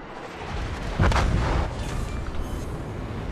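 Naval guns and weapons firing in the World of Warships video game, with a heavy boom near one second over a dense, rumbling wash of battle noise.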